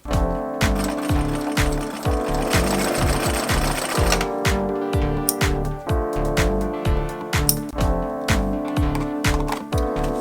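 A sewing machine runs steadily, stitching through a giant duffle bag in rapid, even mechanical thumps with a short pause around the middle, loud and close with no voices.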